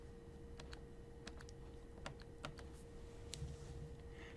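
Buttons pressed on a graphing calculator, a quick series of light plastic clicks and taps at an irregular rhythm, close and fairly quiet over a steady low hum.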